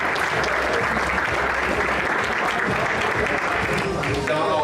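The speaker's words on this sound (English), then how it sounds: "Another round of applause, ladies and gentlemen" Dense, loud applause from the audience at a cricket awards ceremony, continuous clapping with a voice talking faintly beneath it.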